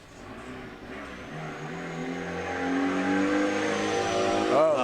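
A Mazda Miata drift car's engine revs and climbs in pitch at a street drift event, a loud, rising drone with a crowd-like wash underneath and a sharp change near the end.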